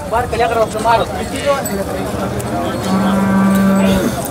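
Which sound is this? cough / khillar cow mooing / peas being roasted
khillar cow mooing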